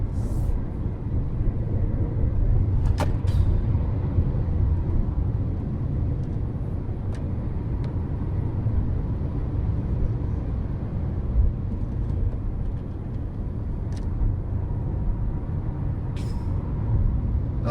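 An electric Renault 5 E-Tech drives on a wet track, giving a steady, loud road and tyre rumble from inside the car with a few brief sharp clicks.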